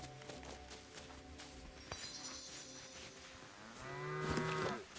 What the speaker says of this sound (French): La vache. On va la caresser avant.